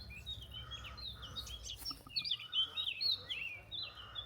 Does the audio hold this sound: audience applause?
no